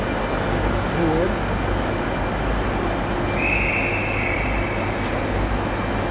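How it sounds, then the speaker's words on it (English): Train at a Liverpool station platform, a steady low rumble and hiss of rail traffic with a brief high squeal partway through, heard under light background noise. "just waiting for the train, guys, to board."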